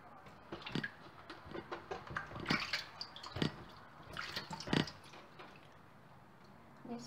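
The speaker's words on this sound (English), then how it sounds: "I already washed three times with only water, but now with water and vinegar." Water sloshes and splashes in a basin as vegetables are rinsed in water and vinegar, with irregular bursts and drips, fairly quiet, no talking.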